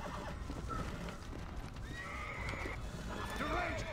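A horse in Red Dead Redemption Undead Nightmare whinnies in long rising calls over trotting hoof clops, with a voice talking faintly underneath.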